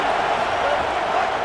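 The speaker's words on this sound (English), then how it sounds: "Big third down as the crowd gets behind this defense." Stadium crowd noise from EA Sports College Football 27 video game, a steady, loud broadband roar of cheering fans sustained evenly throughout a big third-down defensive play.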